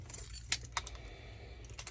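A ring of keys jangles close by in the cab of a 2012 Kenworth T700 truck, several bright clinking rattles in quick bursts over a low engine-like rumble.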